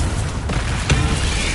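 A Confringo explosive spell from Hogwarts Legacy bursting in a loud booming hit with a sharp impact near the middle, surrounded by a dense rumbling wash.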